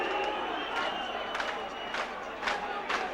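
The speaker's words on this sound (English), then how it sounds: "Well, I think the crowd are roaring." A rugby league stadium crowd roars during a 1989 Great Britain versus New Zealand match, a broad, sustained swell of voices with a few louder bursts, heard beneath a commentator talking over it.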